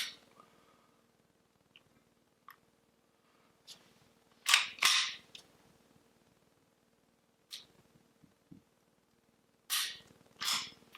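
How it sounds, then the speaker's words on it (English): An HK P7 pistol trigger being worked and reset, giving a few sharp, close metallic clicks spaced several seconds apart in an otherwise quiet room, with tiny ticks between them. "if you wanted to see the reset, let's go ahead and reset it"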